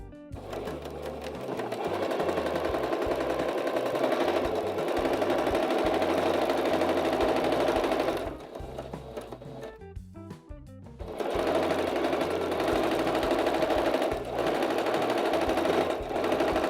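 Sewing machine stitching a seam on a fabric crib bumper, running loud and steady for about eight seconds, pausing with a few clicks and handling sounds, then running again continuously.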